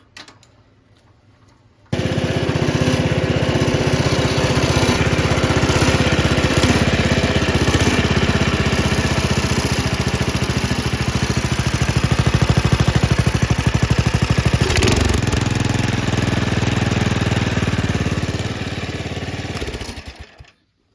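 A repaired snowblower engine with a new carburetor and gas line, starting abruptly and running loud and steady with a rough, clattering putter for about eighteen seconds before cutting off.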